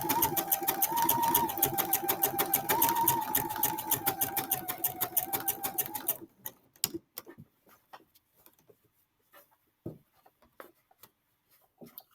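Sewing machine running a tight zigzag stitch over a hole in work pants, a close, rapid rhythmic chatter for about six seconds, then stopping, followed by scattered faint clicks and handling sounds.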